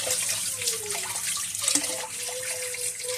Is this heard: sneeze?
no